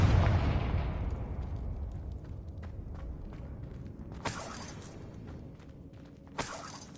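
Confringo fire spell explosion in Hogwarts Legacy: a loud blast decays into a rumbling tail, followed by two sharp bursts with bright crackling, heard alone without talk.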